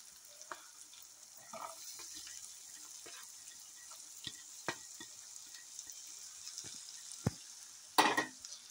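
Ginger, garlic, turmeric and onions fry in a pan with a soft steady sizzle, punctuated by scattered clinks and scrapes of stirring and a louder clatter near the end, all fairly quiet and close.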